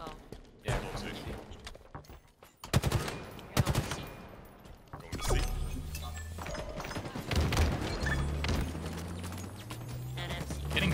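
Halo multiplayer match gunfire: bursts of automatic fire and sharp single shots, some close and loud, others farther off, coming in irregular clusters with players talking over the action.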